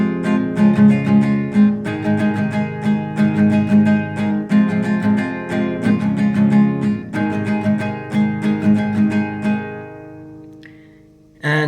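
Acoustic guitar strums the chorus chords of a song, one strumming pattern per chord, steady and fairly loud for about ten seconds before fading out, with no voice over it.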